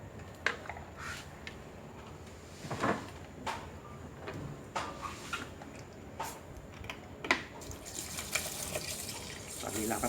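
Water poured into a rice cooker's inner pot for fragrant jasmine rice, heard as a steady trickling wash with clinks and knocks of the pot, close and moderately loud, while someone speaks over it.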